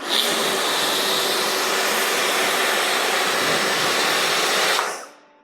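A pressure washer blasts water across a car to rinse off soap suds, a steady loud hissing roar running unbroken for several seconds before cutting off abruptly.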